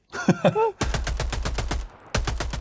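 Rapid bursts of automatic weapon fire from the Helldivers 2 video game, a long sustained volley of evenly spaced shots, a brief pause, then another fast burst, all loud and close, preceded by a short voice.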